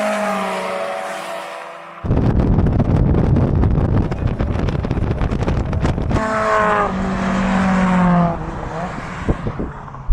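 Modified Mazda MX-5 roadsters, one turbocharged and one supercharged, roar past at full throttle in a drag race, engines climbing through gears with a loud close pass and wind buffeting the microphone.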